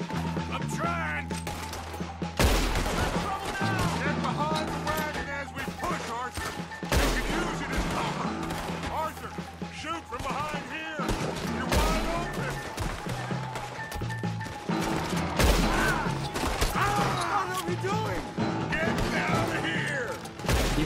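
Red Dead Redemption 2 shootout during a wagon push: repeated gunshots crack in rapid, irregular volleys, mixed with shouted voices and background score throughout.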